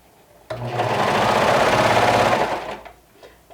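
A sewing machine stitches right sides of fabric together, running in one loud, close burst of about two seconds with a steady rapid whir, then slowing and stopping.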